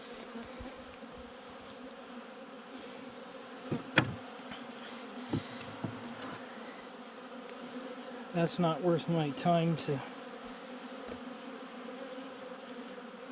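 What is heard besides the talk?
honeybees buzzing while cleaning up wet honey supers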